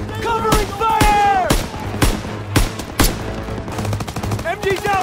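Bursts of machine-gun fire in the World War II shooter Call of Duty: WWII, loud and close, with several sharp shots spaced through the clip under shouted voices and a steady low battlefield hum.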